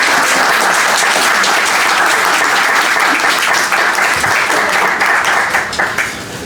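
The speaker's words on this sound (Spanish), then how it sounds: "Un fuerte aplauso, por favor." A loud, dense wash of audience applause at a sociology conference session, sustained evenly for several seconds before tapering off at the end, with no speech over it.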